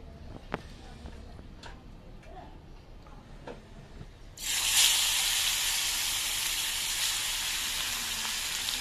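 Hilsa fish pieces lightly frying in a pan, a loud steady sizzle bursting in partway through and continuing, with faint ticks and kitchen sounds before it.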